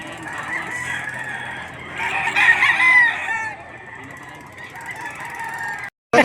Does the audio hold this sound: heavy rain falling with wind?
no